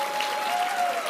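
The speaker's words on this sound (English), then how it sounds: "Another big round of applause." Brief burst of audience applause at a Rare Disease Week gathering on Capitol Hill, steady and even clapping from a crowd for about a second.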